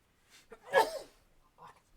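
One sharp human sneeze rings out close and loud, preceded by a short inhale and followed by a brief faint sound.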